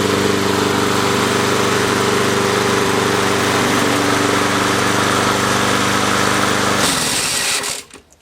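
A Suzuki DT 40 hp outboard motor runs steadily with a loud, buzzing mechanical drone, then the sound shifts and dies away near the end after the handle is released.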